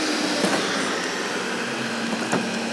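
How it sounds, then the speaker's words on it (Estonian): A Samsung vacuum cleaner runs in its quieter mode, giving a steady broadband whir that holds level and close throughout with no voices. "No täiesti korraliku tolmuimeja hääl"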